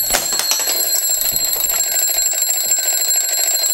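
Air horn alarm clock going off, a loud continuous harsh blaring tone with steady high overtones, close and alone, filling the whole stretch without pause.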